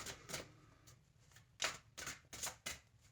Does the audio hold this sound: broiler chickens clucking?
no